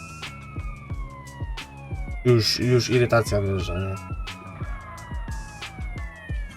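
A wailing ambulance siren in GTA San Andreas sweeps steadily up and down, loud and continuous, with engine and game sounds around it while someone talks over it.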